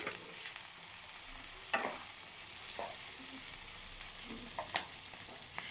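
Chopped capsicum and lightly fried beans stir-frying in a hot pan for fried rice, a steady close sizzle with scraping stirs and a few sharp clinks of the spatula, no voices.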